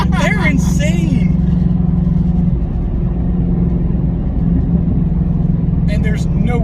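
Mustang 'Hulk' car engine revving hard through upshifts: rising, sweeping revs at the start settle into a loud, steady drone, with people talking over it.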